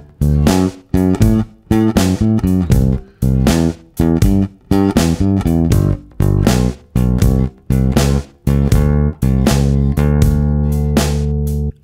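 A bass guitar plays a full 12-bar blues turnaround at about 80 BPM, with loud plucked notes in a steady pulsing groove that end on a held final note.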